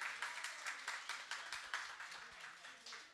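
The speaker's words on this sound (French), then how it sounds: "on devrait faire une main d'applaudissement pour le Normandin et Ève-Marie" Audience applause at a French-language gathering, a steady patter of many hands clapping with fairly even density, moderately loud throughout.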